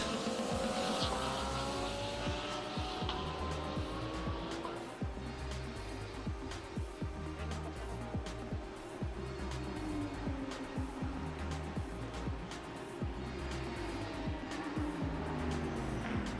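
GT race cars including an Audi R8 roar around Sepang International Circuit, several engines layered with rising and falling pitch, loud and close, with brief tire squeal amid the din.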